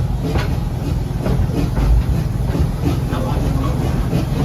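The Busch Gardens Tampa Serengeti Express ride train rolls along steadily, a loud continuous rumble with faint clickety-clack and hiss, heard from on board.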